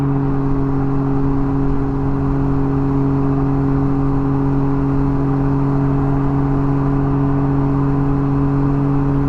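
A steady, loud engine drone with a deep rumbling exhaust note holds constant throughout, from a Can-Am Ryker three-wheeled motorcycle with a louder exhaust cruising at even speed, with wind noise mixed in.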